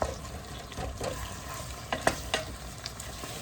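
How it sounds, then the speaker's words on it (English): Ground beef frying for chili in a pot, with scattered scraping stirs over a steady low sizzle, moderately close. "This is the part that takes the longest. Just getting all that beef cooked."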